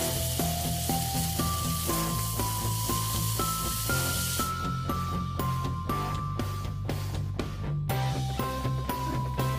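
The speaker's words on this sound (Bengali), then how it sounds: "এবার বাকি যে মাছ ছিল এই তেলে ভালো করে ভেজে তুলে নেব।" Pieces of fish frying in hot oil, a steady close sizzle and crackle running throughout, with background music playing over it.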